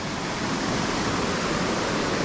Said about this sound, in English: Take you to see the waterfall.